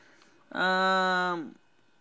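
A pet cat meows once, loud and close, a single drawn-out cry that wants to be let outside, with no one talking over it.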